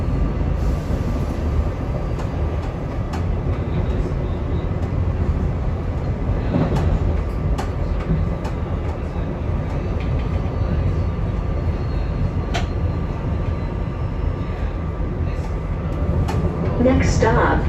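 A SEPTA regional rail train running from Philadelphia toward Doylestown, heard from inside as a steady low rumble and rolling drone with occasional clanks, with faint speech present.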